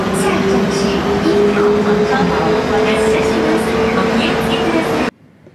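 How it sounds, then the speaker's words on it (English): Loud, steady rumble of a train ride in Korea, with continuous rolling rail noise and a faint tonal hum running for about five seconds before cutting to near silence; faint voices murmur underneath. "I've got to take a train."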